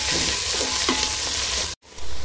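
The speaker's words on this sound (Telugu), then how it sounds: "ఇది పచ్చిమిర్చి ఆనియన్స్ వేసుకుంటున్నాం అండి ఇది బ్రౌన్గా వేగే వరకు వేసుకోవాలి" Green chillies and onions fry in a pan for chicken biryani with a loud, dense sizzle and soft stirring clicks, then a sudden cut to silence before the sizzle returns.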